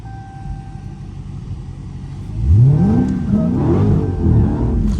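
A Dodge Hellcat's engine revs hard, rising and wavering as the car slides in snow, loud and close with a steady engine drone beneath the surges.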